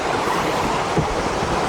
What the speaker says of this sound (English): we'll watch the rapid. The Hog Creek Rapid.